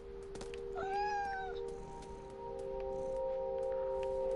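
A cat character in a video game lets out a single rising-and-falling meow near the start, clear over a steady background drone and faint electronic tones.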